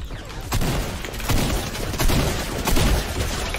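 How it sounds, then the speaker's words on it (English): Explosions and gunfire from a Fortnite match during Winterfest 2020 as a box is blown up: dense, loud blasts in several bursts about every half second to second, over a constant roar of game noise. "I'm gonna try and explode the box."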